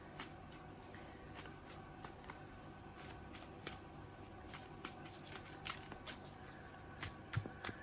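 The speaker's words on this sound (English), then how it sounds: "usually those big cards you can only shuffle like this, and even then they're difficult" Large oversized oracle tarot cards are shuffled by hand in repeated soft riffling bursts, close and quiet, with a steady papery rhythm.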